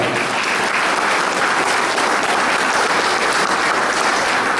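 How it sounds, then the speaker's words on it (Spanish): Audience applause at a gathering of Amazonian Indigenous migrants in Lima, a dense, loud, continuous burst of clapping from a crowd, sustained evenly throughout with no talk. "Fuertes palmas y vamos a escuchar."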